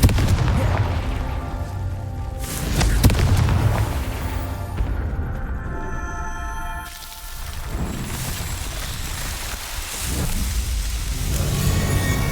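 A Confringo fire spell explodes in Hogwarts Legacy, a deep rumbling boom with crackling blasts that rolls and swells over several seconds, loud and dense like distant thunder, with no talk.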